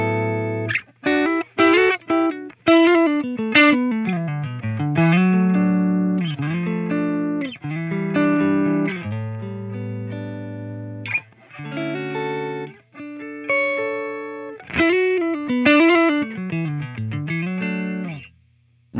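An electric guitar runs through a Line 6 Pod Go on its default amp settings, playing a sustained melodic phrase of clear, slightly overdriven notes and slides, loud and alone for about nineteen seconds.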